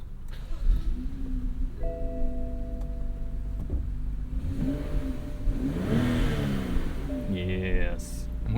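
A 2015 BMW X3 xDrive35i with about 100,000 miles starts up nearby, then its engine revs and settles into an idle hum, with faint clicks and whirring.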